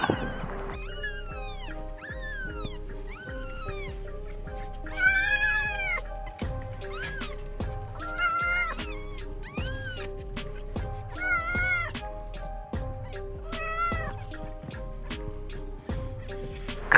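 Two-week-old kittens under a house meow again and again, high, rising and falling cries in a steady overlapping series, fairly close and clear against a low constant background hum.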